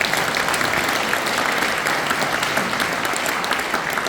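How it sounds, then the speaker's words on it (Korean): An audience at a Korean humanities lecture event gives sustained applause. Many hands clap densely and steadily at an even loudness throughout, with no speech over it. "120살까지 살도록 박수 한번 보내주시고"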